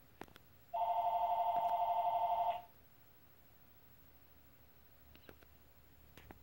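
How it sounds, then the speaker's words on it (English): A home telephone rings once with a steady electronic warbling tone lasting about two seconds, near and clear in an otherwise quiet room with faint clicks. "Had a phone call and it was the wrong number."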